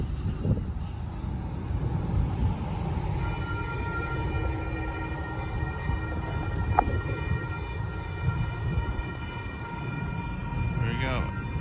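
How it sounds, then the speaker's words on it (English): A northbound Union Pacific mixed freight train led by a C44 locomotive passes a road crossing at Wonder World Drive in San Marcos, a steady loud rumble with sustained horn tones and a rising squeal near the end. "Here comes another train."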